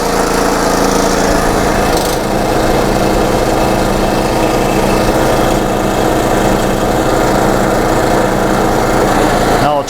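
A YT624EJ snow blower engine runs loudly and close with both the drive and the auger engaged, giving a steady, throbbing drone with a slight shift in load partway through.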